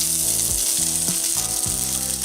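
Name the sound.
pulled pork sizzling in a hot oiled pan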